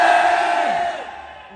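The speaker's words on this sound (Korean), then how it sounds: "오 함성 소리 엄청 큰데요?" A large concert crowd roars and screams loudly in a sustained, full-bodied cheer that gradually fades over a second and a half.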